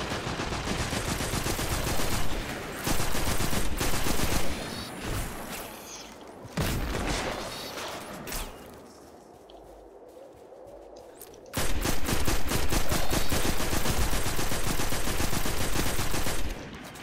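Bursts of rapid automatic gunfire in the video game Destiny 2 rattle loudly, easing into a quieter stretch, then a long sustained volley resumes near the end.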